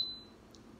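A quiet electric pressure cooker beep, one short high electronic tone at the very start that fades fast, followed by faint room hiss.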